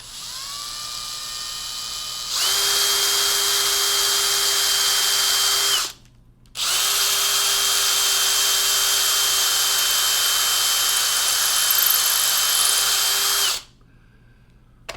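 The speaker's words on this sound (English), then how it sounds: "drill a hole in here" A power drill whines at high speed for several seconds, stops briefly, then runs again for a long steady stretch before cutting off, drilling a hole in wood.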